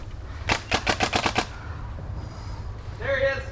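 An airsoft gun fires a rapid burst of about eight snapping shots during an outdoor airsoft game, fairly close, followed by quieter background noise.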